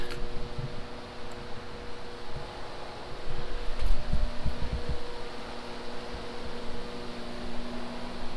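Truck with a swapped 6.0 LSA V8 idling, a steady low rumble with a faint fan-like hum and some uneven low thumps in the middle.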